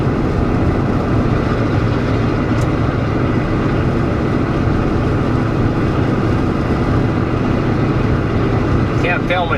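A deep, steady engine rumble drones from inside a moving pickup truck with an IDI diesel and straight pipe exhaust, loud and constant with a throaty low exhaust tone throughout.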